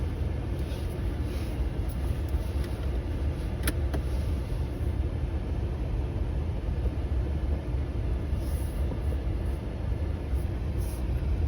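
A 2025 Tesla Model S drives along with a low, steady road rumble and faint cabin hum, nearly constant throughout with no voices.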